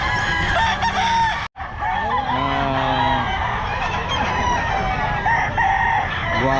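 Roosters crowing at the Bocaue pet market, several overlapping cock-a-doodle-doo calls near and farther off, amid clucking and general market noise.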